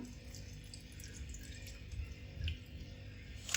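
Half a cup of milk poured into a bowl for gulab jamun makes a faint, steady trickle with a few soft drips, heard close in a quiet kitchen with no talking.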